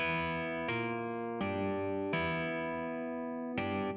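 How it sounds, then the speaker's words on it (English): An electric piano plays a slow sequence of sustained chords, each struck cleanly and ringing out with a bright, slightly processed tone. "Or some kind of electric piano"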